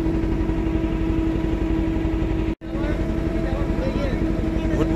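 Crowded motor ferry boat crossing the wide Ganges from Gaurnagar ghat, its engine chugging in a steady, loud, rhythmic drone that cuts out for a brief moment before resuming.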